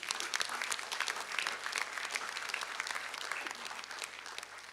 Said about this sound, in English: Let's give a very big round of applause.